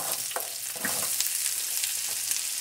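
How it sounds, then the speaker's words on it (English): Chopped onion, ginger and slit green chilies frying in hot oil with spluttering mustard seeds for a tadka dal, a close, steady sizzle with small crackles and some stirring. "So we'll fry this until onions turn golden brown."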